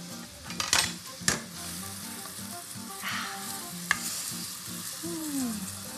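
Garlic cloves dropped into a hot pan for lentils with garam masala, giving a steady close sizzle with a few sharp clinks of a utensil against the pan and stirring scrapes, no talk.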